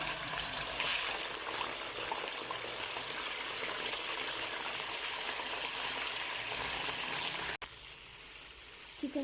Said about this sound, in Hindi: चिकन को हमने करना है डीप फ्राई।